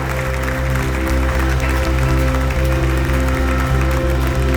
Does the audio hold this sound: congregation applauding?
yes